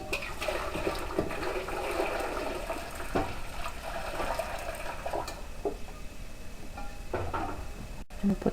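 Hot water from a pint jar is poured into a pressure canner during home canning of spicy tomato basil soup, a faint, steady gushing and trickling over several seconds.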